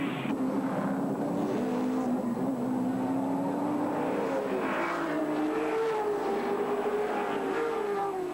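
Touring race cars at the 1983 Bathurst 1000 on Conrod Straight, a continuous loud engine drone that rises and falls in pitch as cars accelerate and pass, with steady broadband roar throughout.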